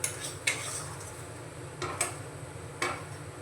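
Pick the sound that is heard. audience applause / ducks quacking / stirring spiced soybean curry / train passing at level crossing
stirring spiced soybean curry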